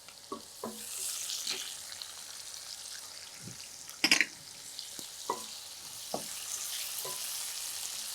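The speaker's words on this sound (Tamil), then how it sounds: "வெங்காயத்துக்கு பிறகு நான் சேர்க்க போகிறது கேரட்டுங்க." Finely chopped carrots, added after onions for rava oats kichadi, sizzle and fry in a pan with scraping stirs and clanks, a soft steady crackle under occasional spoon knocks.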